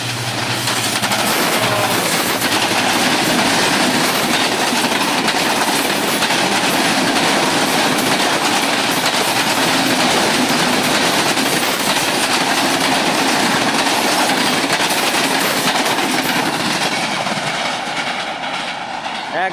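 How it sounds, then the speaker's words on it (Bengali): A train roaring past at high speed on a railway line, a loud, continuous rumble and clatter of wheels on rails filling the whole stretch, close by and unbroken from start to finish. "সেই বেগে কিন্তু ছুটে আসছে একটি ট্রেন"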